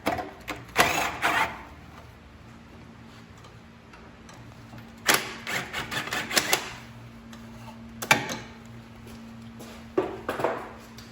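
An 8mm tool loosens the intake hose clamps on a Fiat 500 Abarth, producing several short bursts of quick ratcheting clicks separated by quieter pauses.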